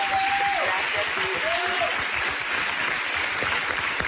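Applause fills a radio studio in a steady, close wash of clapping for the whole span, with a couple of short tonal chimes near the start.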